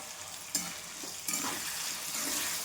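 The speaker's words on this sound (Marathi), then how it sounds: "मी बटाटा टाकून घेते याच्यामध्ये आणि छान भाजून घेते" Potato and green chili fry in a pan, a gentle, even sizzle with a couple of sharp stirring knocks near the start, quiet and close with no speech.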